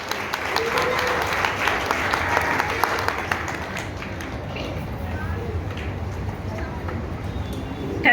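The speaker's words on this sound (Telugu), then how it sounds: "కాబట్టి గట్టిగా చప్పట్లు కొట్టి వాళ్ళని ఉత్సాహపరచండి." Audience applause at a Telugu cultural association's Ugadi award ceremony, a steady, full wash of clapping filling the hall for several seconds before easing slightly toward the end.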